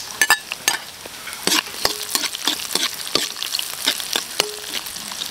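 Garlic, ginger and onion sautéing in a pan of coconut-milk chicken liver and gizzard stew, with repeated sharp scrapes and clacks of a stirring spoon over a steady sizzle, close and fairly loud.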